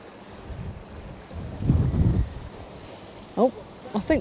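Strong wind gusting across a Norwegian fjord during a fishing trip, a steady rushing roar with microphone buffeting that swells in the middle, plus a few brief knocks and creaks near the end.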